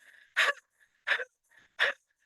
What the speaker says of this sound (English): You're going to open your mouth up wide and breathing in and out through the mouth.